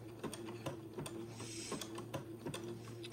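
A sewing machine zigzag-stitches lace insertion to beading, running in a steady, quiet mechanical rhythm of regular needle clicks over a low motor hum, with no talk.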